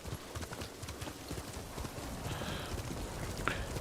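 Horse hooves clip-clopping in the video game Ghost of Tsushima, a brisk steady run of close hoof beats with a short sharp accent near the end and no talk.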